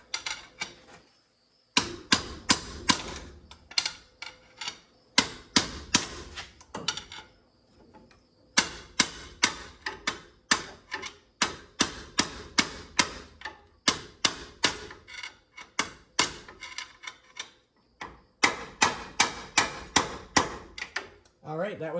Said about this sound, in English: going to put my pry bar right on the edge of that and give it a couple whacks